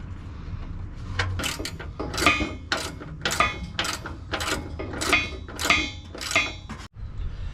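Metallic ratcheting and clanking from tightening bolts into a cross member under a 2020 Toyota 4Runner TRD Pro skid plate, in repeated short bursts close by with no talking.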